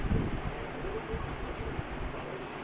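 Steady low rumbling buffet of air from a ceiling fan blowing across a microphone, constant throughout with no other clear sounds.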